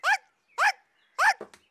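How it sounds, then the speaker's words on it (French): A cartoon dog barks three times in a steady rhythm, each bark sharp and close, followed by a couple of quick softer yelps. "tu te rappelleras d'aboyer pour chasser les oiseaux"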